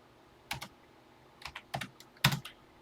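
Clicky keystrokes on a TI-99/4A computer keyboard, a few separate quick taps and short clusters with quiet gaps between them, close and alone.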